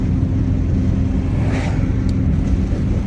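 Steady broadband road noise of traffic, a continuous rumble of cars with a vehicle swelling slightly as it passes midway.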